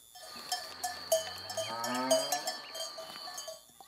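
A Maasai enkorkkor cowbell from Kenya rings steadily with bright metallic clanks and sustained resonant tones, repeated strikes layered over each other, close and clear with no talking.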